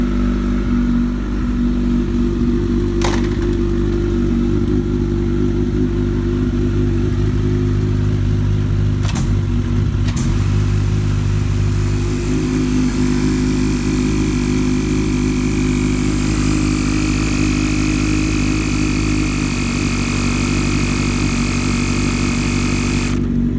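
A 2013 Kawasaki ZX14R fitted with an MPS quick air shifter idles loud and close, its deep steady engine drone punctuated by a few sharp clicks before the tone rises slightly later on.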